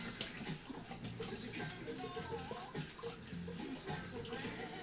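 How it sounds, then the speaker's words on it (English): Tap water runs steadily into a sink in a home kitchen as hands are washed beneath it, a continuous close splashing wash with a low background hum and no talking. "I'm going to wash my hands."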